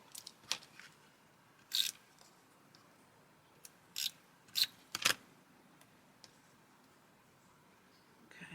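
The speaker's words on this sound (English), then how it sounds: "I'm just going to use tape runner." A tape runner lays adhesive onto white card letters J and Y on a non-stick mat during Christmas card making, giving several short, crisp, quiet rasping clicks in separate bursts with hush between them.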